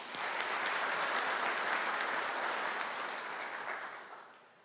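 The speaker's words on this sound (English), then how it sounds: "Let us give him a round of applause" Steady, dense applause from a large audience fills a university graduation ceremony hall, holding level for several seconds before tapering off at the end.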